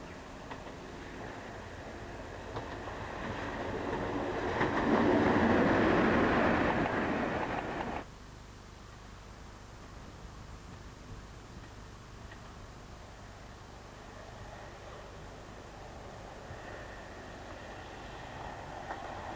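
A locomotive-hauled passenger service from Manchester on the summer timetable rumbles past, swelling to a loud broadband roar over several seconds and then cutting off sharply, followed by a quieter steady rumble.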